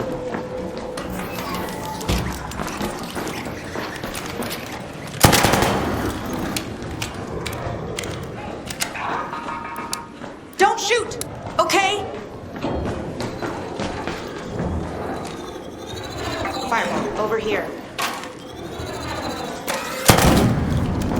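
Gunshots and mechanical clanks from the shooter video game Arc Raiders, with sharp loud bursts scattered among ratcheting, whirring machine noise and thuds over a busy, continuous battle soundscape.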